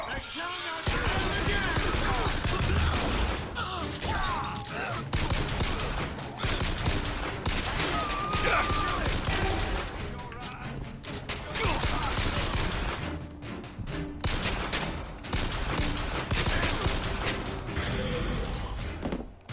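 Continuous gunfire and combat clatter in the video game Bioshock Infinite, a dense loud barrage of shots and crashes that runs throughout.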